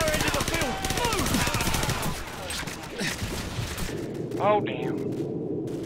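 Firefight gunfire in Call of Duty 4: Modern Warfare, with rapid bursts of automatic weapons and overlapping shots from close range. Shouted voices run under the fire. The shooting thins out near the end.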